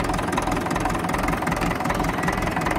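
A 1954 tractor engine idles steadily while warming up on a snowy day, a loud, close, continuous low rumble with a slight knocking pulse and no voices.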